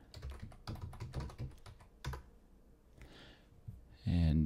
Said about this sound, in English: I'm going to type in admin, and I'm going to type in root